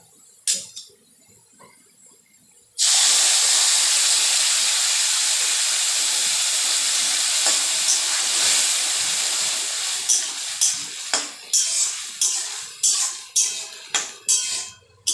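A pot of mixed wild forest greens bursts into a loud, steady hiss and boil after a quiet start, with sharper crackling pops building toward the end.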